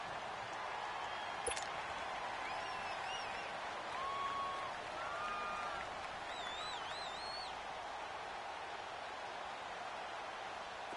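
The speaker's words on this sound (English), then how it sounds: "The crowd getting into it as we come up on a big 3rd down." A stadium crowd in a PS4 football video game gives off a steady, broad roar that swells slightly midway, with faint whistle-like tones drifting over it.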